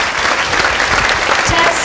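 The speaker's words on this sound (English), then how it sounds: "I think that we should give them a round of applause because that's amazing." A crowd at a youth-led town hall on gun violence in Kansas City breaks into loud, dense applause for students, steady and continuous throughout with no talking over it.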